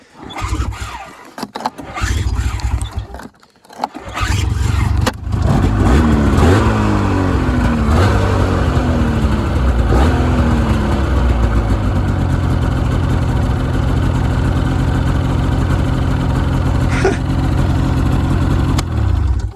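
A Ski-Doo two-stroke snowmobile engine cranks in short bursts, then catches and runs loudly and steadily up close, with rising revs that settle into a sustained buzzing idle.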